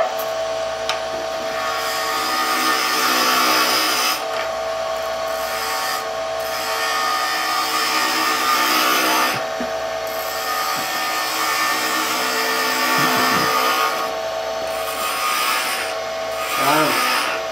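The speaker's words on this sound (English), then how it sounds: "I'm spindle cutting, the grain is going with the lathe bed." A wood lathe turns a spindle with the grain running along the bed while a tool cuts the wood, making a continuous rubbing, scraping whir with small shifts in tone and brief dips throughout.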